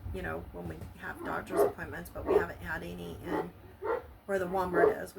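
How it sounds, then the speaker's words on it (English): A house dog barks and whimpers in short yips in the background of a home kitchen, under continuous close conversational speech. "I'm so sorry about the dog barking."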